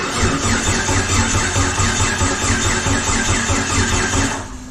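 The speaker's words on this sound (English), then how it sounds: "It's gonna take a lot of amps to crank it over." A 4.6L stroker engine cranking over: a loud, continuous, rhythmic starter churn with a steady pulsing beat throughout, close up, easing off at the very end without catching.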